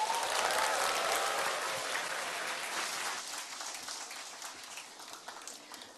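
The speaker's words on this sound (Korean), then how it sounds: "큰 박수 부탁드립니다" A seminar audience applauds a lecturer, a dense wash of clapping that starts strong, then slowly thins and fades over several seconds.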